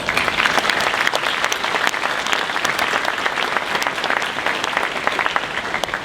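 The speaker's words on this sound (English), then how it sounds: "I'd like to give them a round of applause." Sustained applause from an audience at a firefighter graduation ceremony, steady dense clapping filling the room at even loudness for the whole stretch with no talk over it.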